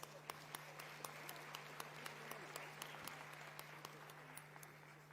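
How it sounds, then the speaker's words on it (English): Faint, distant applause from an audience at a signing ceremony during a heads of state session in Kenya, a soft continuous patter with regular sharp clicks and a steady low hum underneath. "And as the signing takes place, congratulations, everyone. A round of applause."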